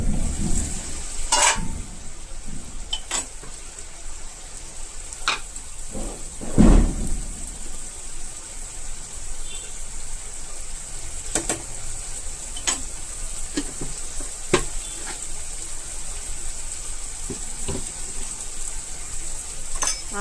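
Mutton cashew curry simmering in a pan, giving a steady low bubbling sizzle with scattered soft ticks and pops and one louder clatter near the middle, with no voices.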